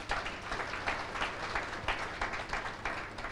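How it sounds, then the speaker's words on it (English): Summit audience applauding panelists, a fairly quiet, moderately dense clapping with pulsing swells, heard from a distance in a conference hall. "So please, can we give them a round of applause?"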